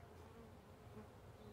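Steady, low buzzing of many honey bees close by at an apiary, a continuous droning hum with no voices.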